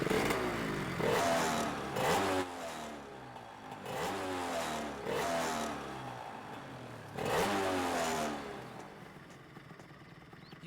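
A motorcycle with a sidecar revs its engine in repeated rising surges, loud and near, with brief dips between pulls.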